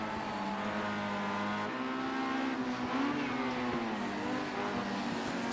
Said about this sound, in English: the cars making their way out onto track just now